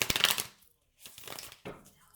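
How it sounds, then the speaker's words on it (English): A deck of tarot cards shuffled up close, with brisk riffling bursts separated by short pauses, faint and alone. "Okay, one more shuffle, and then we'll cut the deck."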